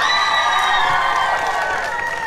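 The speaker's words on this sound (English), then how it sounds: "give it a cheer from Kevvy" A crowd at Morpeth Fair Day cheers and whoops in a loud, sustained swell of shouting voices, continuous for the whole moment.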